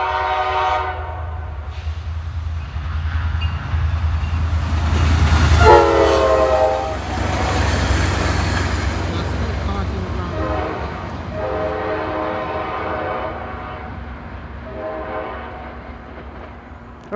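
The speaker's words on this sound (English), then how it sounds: "Okay, so here comes the next train. Train 51 bound for Port Jervis." Passenger train 51 bound for Port Jervis passes close by, a loud steady rumble with repeated long horn blasts sounding through most of the run before fading slightly toward the end.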